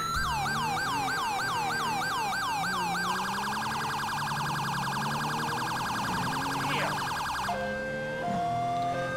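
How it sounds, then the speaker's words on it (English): A police car's code 3 siren in GTA V with the LSPDFR mod blares loud and close, a rapid yelp switching to a faster piercing wail, then cutting to different tones near the end, with no voices. "So we're using a code 3 siren now."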